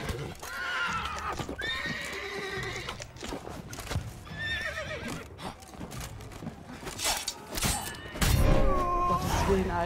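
Horses neigh and whinny repeatedly in The Witcher 3: Blood and Wine, with hooves clip-clopping and thuds amid busy game sound, growing louder near the end.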